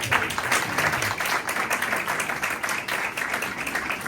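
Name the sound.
audience applauding loudly at a live worship service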